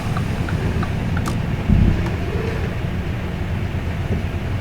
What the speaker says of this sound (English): This is a longer train. I could tell because it was puffing smoke.